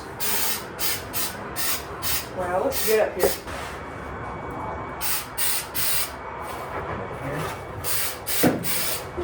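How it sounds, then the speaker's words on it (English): Repeated short hissing bursts of an aerosol spray can painting a VW Baja Bug body gray, several in a row with pauses between, while a person talks nearby. "Now we're spraying the trunk in gray."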